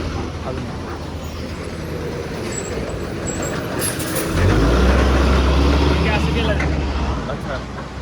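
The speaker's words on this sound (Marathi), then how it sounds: "असे आर्मीचे ट्रक जात आहेत." Army trucks pass along a mountain road on the way to Leh. A heavy, deep engine rumble swells up midway and lingers under steady road noise, with voices in the background.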